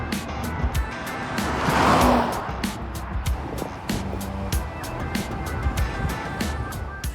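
A Porsche Panamera drives along with a steady road and engine hum that swells briefly as it goes. Regular clicking ticks run through it and a voice speaks over the top.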